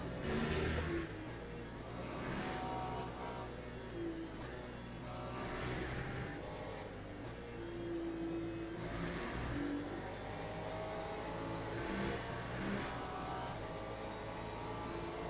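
Porsche race car engine revving in the Le Mans Ultimate racing game, a continuous moderately loud engine drone rising and falling in pitch through gear changes and accelerations, with no talk.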